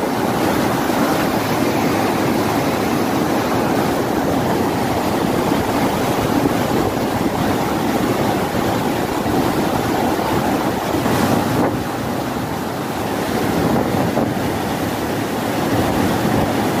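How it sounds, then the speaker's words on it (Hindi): Steady, loud rush of fast churning water at the Koshi Barrage dam in Nepal fills the whole stretch, a constant broadband roar with no pauses and no voices. "देखिए कितना फास्ट पानी आ रहा है।"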